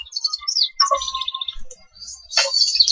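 In the Syberia video game, a cuckoo chirps in a series of bright, high tweets and trills, clear and fairly close, with brief pauses between bursts and no talking.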